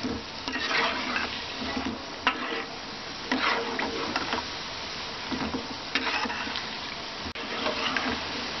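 Suji gulab jamun frying in oil over a medium gas flame, a steady soft sizzle and bubbling with occasional faint stirring clinks, fairly quiet and continuous with no talking.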